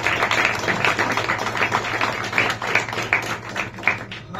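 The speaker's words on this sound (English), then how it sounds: "Please give a warm round of applause for Ruben Martinho" An audience at a standup comedy night in a bar in Aarhus applauds for the next act, a steady, moderately loud patter of hand claps with a low hum beneath it.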